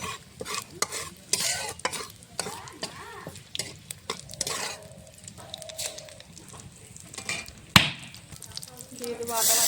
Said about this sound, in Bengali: দিয়ে দেবো তেজপাতা, শুকনো লঙ্কা, দিয়ে দেবো 5 ফোড়ন